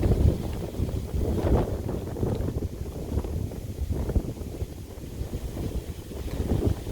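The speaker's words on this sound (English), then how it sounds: "Oh, we got some wind." Wind gusts buffet the microphone outdoors on a cloudy night, a steady low rumble with swelling surges, close and fairly loud throughout.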